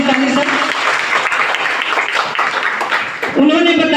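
An audience in a network marketing seminar hall bursts into loud, sustained applause, dense clapping filling the room for about four seconds, with a voice coming back in at the very end.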